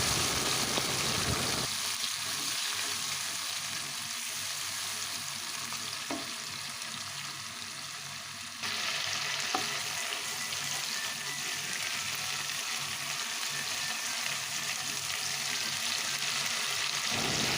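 Tomato puree frying in a pan with cinnamon, cardamom and cloves for a vegetarian stuffed Kashmiri aloo dum, a constant loud sizzle throughout that briefly eases and then returns as the pan is stirred.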